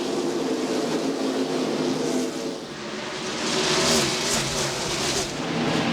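Stock cars racing at Bristol Motor Speedway late in the 1999 Goody's Headache Powder 500, a dense continuous roar of engines that swells and fades as the pack circles.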